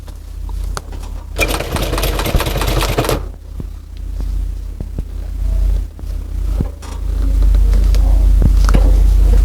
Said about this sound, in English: This is now the front, so we'll sew down the front.